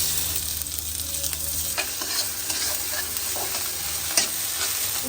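Onion fries in a pan with a steady, bright sizzle and occasional light clicks of stirring, close and continuous throughout.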